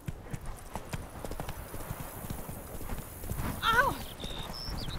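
Roach, the horse in The Witcher 3, trots with even hoofbeats, close and moderately loud, and a short whinny or vocal cry rises near the end.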